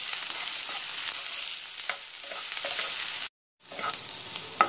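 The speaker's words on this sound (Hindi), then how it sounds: "गैस की फ्लेम हाई करके इन्हें हम फ्राई करेंगे, जिससे कि जो हमारे प्याज है वो अच्छे क्रिस्पी हो जाए।" Sliced onions and green chillies frying in a pan over a high gas flame, a steady dense sizzle with occasional stirring scrapes and a brief dropout before the crackle resumes, close and loud.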